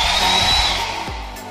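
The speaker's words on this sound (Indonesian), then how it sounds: "di sini ada hair dryer pastinya berfungsi dengan baik" A hair dryer runs in a villa bathroom, giving a loud, steady blowing whoosh with a high whine that shifts slightly and dips near the end.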